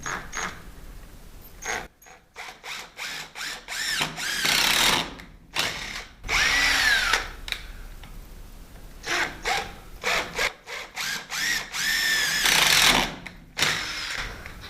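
A power tool cuts metal and blows out concrete while a Lockwood lock is being fitted, a loud whining grind that surges and drops in repeated bursts with brief gaps between passes.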